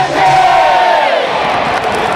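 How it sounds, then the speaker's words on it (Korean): Korean baseball crowd in the stands chanting a player's name in unison during a ninth-inning rally, a loud, sustained massed shout rising and then holding steady, with a cheerleader's amplified voice leading the crowd. "자 힘을 주세요 함께 합시다 4층 5층 다같이 고종욱!"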